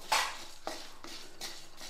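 Whole spices being lightly dry-roasted in a pan for mutton manjal kulambu, heard as four dry scraping, clinking strokes of a utensil against the pan, spaced evenly, close and fairly quiet, with no talk.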